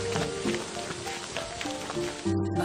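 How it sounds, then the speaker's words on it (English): Rain falls steadily in an animated children's story, making a continuous soft hiss with sustained musical tones layered beneath it. "Oh, it is raining."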